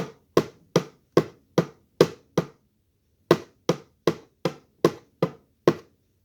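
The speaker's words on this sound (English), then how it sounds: "right now we were banging with the pencils" Sharp hollow taps of pencils on a shoebox in two quick runs of about seven strikes each, separated by a short pause, close and fairly loud.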